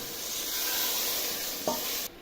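Urad dal being stirred into masala frying in a pot for a village-style mash ki daal, a steady sizzle with scraping stir strokes that cut off abruptly near the end.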